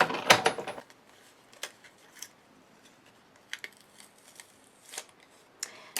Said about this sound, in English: So I'm just going to go ahead and cut this out.